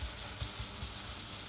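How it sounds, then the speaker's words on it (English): Omelette frying in a pan on a compact camping stove, a faint, steady hiss with soft low crackles and pops. "frying up nicely to a nice omelette"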